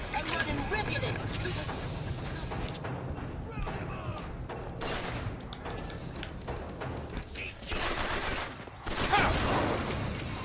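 Heavy shotgun blasts in BioShock Infinite ring out in bursts amid a chaotic firefight, loud booming shots interspersed with thuds and clatter, with no speech over them.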